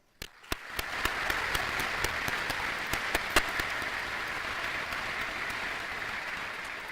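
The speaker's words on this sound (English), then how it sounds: "One last big round of applause to all the parents and all the students" An audience at a high school awards ceremony in Stuttgart breaks into applause, a dense sustained round of clapping that starts abruptly, with a few louder nearby claps popping out above the steady crowd.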